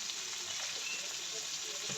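Masala frying in oil in a pan during slow cooking, a steady soft close sizzle and hiss with faint stirring, no voices.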